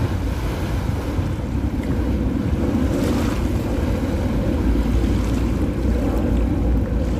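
Water gushes strongly upward like a fountain at Dolomite Beach after heavy rain, making a steady, loud rushing roar that carries on without a break and mixes with wind noise.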